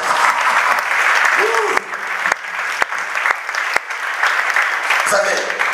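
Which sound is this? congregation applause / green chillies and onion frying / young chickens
congregation applause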